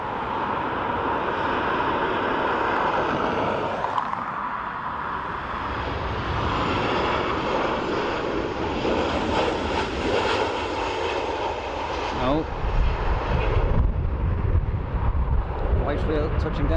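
A Ryanair airliner lands at Dublin Airport, its loud jet roar and rushing wind noise sustained throughout and swelling near the end as it touches down, while someone speaks over it.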